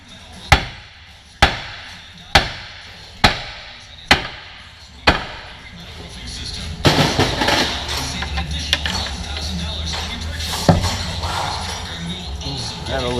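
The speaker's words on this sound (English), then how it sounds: "you're going to want to strike right here with a hammer." Hammer blows striking near a ball joint to loosen it on a 2004 Buick LeSabre, six sharp metallic bangs at an even pace, close and loud, followed by clanking and rattling workshop noise.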